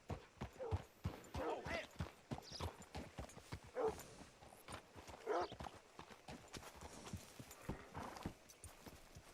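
Steady clip-clop of horse hooves close by in Red Dead Redemption 2, with a horse's whinny rising over the rhythmic footfalls.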